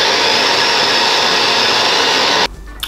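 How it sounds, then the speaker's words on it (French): A blender whirs loudly and steadily, mixing egg whites with avocado for a light guacamole, then cuts off abruptly near the end, leaving quiet room sound. "nous allons rassembler les blancs d'œufs avec l'avocat et nous allons les mixer"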